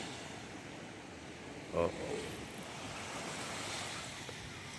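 Calm sea washing in at low tide, a steady soft hiss of gentle surf with a little wind noise, close and fairly quiet, with a single brief exclaimed word partway through.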